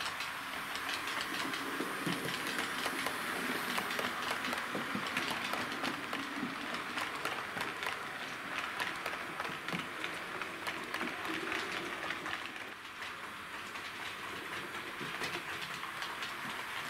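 A Hornby H class model steam locomotive hauling Bachmann Birdcage carriages runs along a model railway, producing a steady close rattle and clickety-clack of wheels on track with a faint whirring motor underneath.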